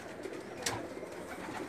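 Breeder pigeons kept in a loft coo softly at a distance, a low murmuring of bird calls with one brief sharper sound partway through and no talking.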